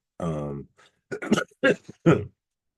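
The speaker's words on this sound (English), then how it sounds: "Let me clear my throat." A man clears his throat several times in short, gravelly bursts, close to the microphone, followed by a brief pause.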